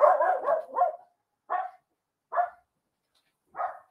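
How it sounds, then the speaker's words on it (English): A dog barks in a home kitchen: a quick run of three close barks, then three single barks spaced farther apart. They are loud and near, with silence between them and no talking. "She's actually barking."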